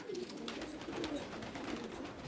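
Giradan pigeons coo in soft, low repeated calls over a steady background hum, close and continuous with no talking.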